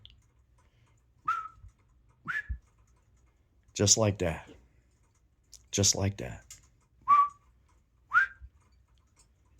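A person imitates a whistle with short, rising whistled notes repeated four times in a quiet room, speaking briefly between them.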